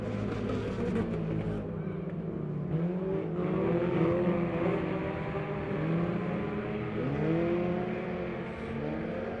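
Race cars roar along the back stretch of a short oval during a heat race, several engines blending into a steady, loud drone with rising and falling pitch sweeps as they pass, no voices.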